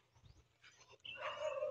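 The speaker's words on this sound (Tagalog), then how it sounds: "Aso." A dog barks outdoors near a fishpond, a faint, short call rising near the end after a few soft, distant sounds, with a quiet voice in the background.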